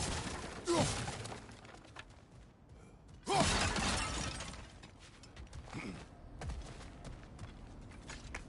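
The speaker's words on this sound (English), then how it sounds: "back to smashing through things for fun and profit" Objects smashed and shattered in God of War Ragnarök, with three loud breaking crashes spaced a few seconds apart, each trailing into debris clatter amid game ambience and footsteps.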